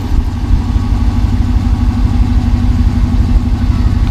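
A deep, steady engine rumble from a Ram 1500 Hemi V8 truck exhaust with an electric cutout open runs close and loud, a throaty idle with a constant low burble and no talking over it.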